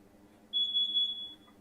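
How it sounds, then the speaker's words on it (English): A single clear electronic beep sounds for nearly a second, a thin steady tone over a quiet low room hum. "I think something is beeping."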